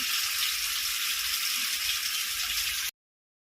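Two fish sizzle steadily in about four spoonfuls of hot oil in a pan, a dense, loud, even hiss that runs without a break and then cuts off abruptly.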